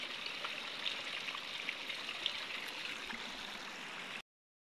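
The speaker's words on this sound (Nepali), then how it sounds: "खेतपट्टि पानी सरर लगाइदिनु पर्यो" Water pours steadily into a rice paddy field, a continuous broadband rushing and splashing heard close and fairly quiet, with no voices, cutting off abruptly near the end.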